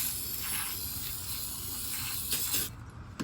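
ZEP carpet stain remover sprays onto carpet in close, hissing bursts, with a few louder puffs of mist near the end.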